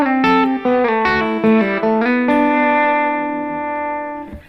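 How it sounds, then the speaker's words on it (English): Electric guitar picks out a short melodic pattern of quick notes over a held chord, then lets the final note ring and decay, processed with effects and reverb. "I made a little motive, a little pattern."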